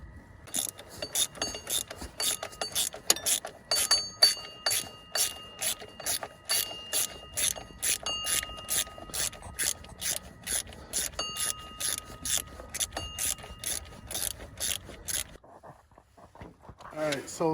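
Ratchet with a swivel attachment turning a bolt on a Dodge Ram 1500 during a water pump replacement, rapid close clicking pawl strokes in quick bursts with brief pauses, ending with a short stretch of quiet and movement.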